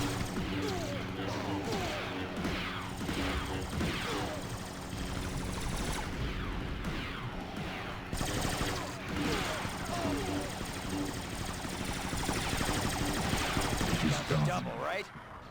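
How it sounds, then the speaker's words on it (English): Rotary gun units fire in a Star Wars Battlefront 2 mod on the Frozen Altars map, a video game battle. Rapid bursts of gunfire and crashing impacts pile up densely and continuously. "their rotary gun units are badass"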